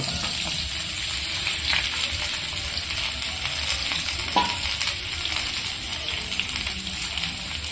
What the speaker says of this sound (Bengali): আমি সেদ্ধ করা ছোট আলুগুলোকে খোসা ছাড়িয়ে রেখেছিলাম সেগুলো একটু ভেজে নেব